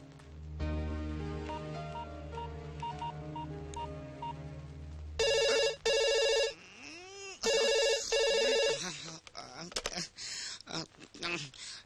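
A telephone is dialled with a run of short keypad tones, then an electronic ring sounds in repeated loud bursts, followed by clicks and a voice on the line.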